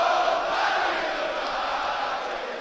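Manchester crowd at a UFC event for fighter Paddy the Baddy Pimblett, a dense roar of massed voices chanting steadily from a distance, loud and continuous with no break.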